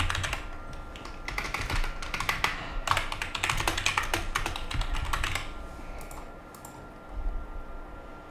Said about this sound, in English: You're going to want to type in the description.